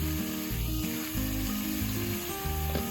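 Butter sizzles and hisses steadily in a hot Dutch oven over a fire, close up, over a low droning background hum.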